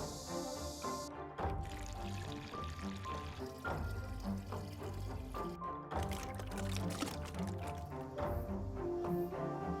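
Cooled boiled water pours steadily into a pot holding Chinese prickly ash, star anise and coarse grain salt for pickling, a continuous splashing flow that lasts several seconds.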